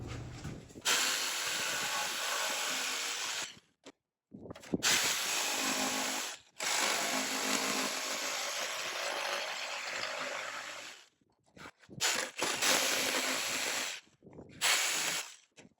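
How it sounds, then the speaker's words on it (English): Jigsaw cutting tongue and groove panelling during a kitchen makeover, a loud close buzzing saw run in several long bursts separated by short pauses, with no one talking. "So I'm gonna use my new jigsaw."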